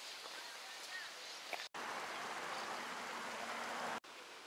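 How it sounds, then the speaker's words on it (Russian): A local river stream flows with a steady broadband rush, fairly loud and continuous, interrupted only by two abrupt cuts. "Это речка местная, очень популярное место отдыха среди местных жителей."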